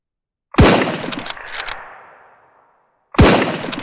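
Two sharp, loud rifle shots from SurrounDead, the first followed by a short echoing tail and a brief metallic rattle, the second coming about two and a half seconds later, with silence between and no talk.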